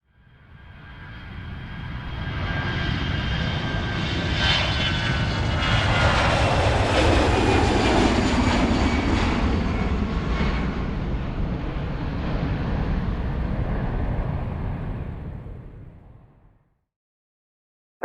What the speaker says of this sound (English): the aircraft lands safely in San Francisco before taxiing to the gate for inspection of the